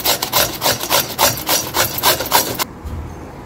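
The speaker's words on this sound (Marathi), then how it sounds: "अशा प्रकारे मी ही काकडी किसून घेतली आहे।" A cucumber rasped against a kitchen grater in quick, steady rhythmic strokes, close and fairly loud, each pass a bright scraping rub, stopping abruptly near the end.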